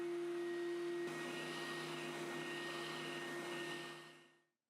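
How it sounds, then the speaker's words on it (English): A spindle sander enlarging drilled holes in a workshop drones with a steady, tonal motor whine, then winds down and fades to silence near the end. "I'll try to make the holes that are supposed to be of a larger diameter bigger with a spindle sander."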